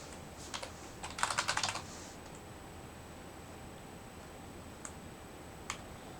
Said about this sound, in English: Oh, this, I hate mechanical keyboards.